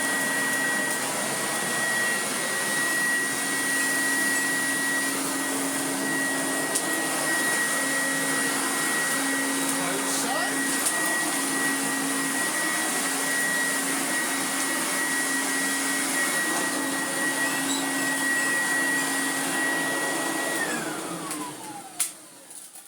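A robot vacuum cleaner runs steadily on a hard floor with a constant whirring motor hum and a high whine, until the motor winds down and stops at the end.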